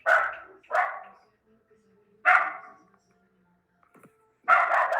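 A dog barks in four loud, close bursts: two quick barks, a pause, then two more separated by a longer gap, with faint quiet sounds in between.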